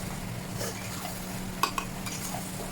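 Onions and spices stuck to the sides of a pan are stirred and scraped with a small spoon for chicken curry. The scraping is soft and close, with a couple of light metallic taps over a low steady hum.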